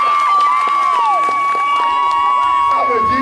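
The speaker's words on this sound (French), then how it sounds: "Applaudissez. Applaudissez." A large crowd at a Togolese political rally cheers and claps on command. Loud, continuous roar with shouting, sustained whistle or horn tones and scattered claps running throughout.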